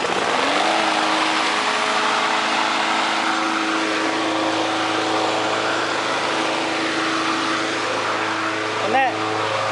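A Briggs and Stratton Classic small pull-start engine runs steadily at a constant drone close by, with a brief rise in pitch near the end.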